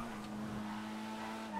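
A Volkswagen Golf MK1 in the video game GTA 5 Online, a steady, fairly quiet engine drone with a held tone and no clear revving across the short moment.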